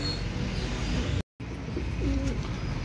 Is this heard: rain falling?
no